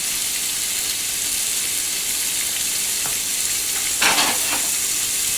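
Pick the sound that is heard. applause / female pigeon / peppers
peppers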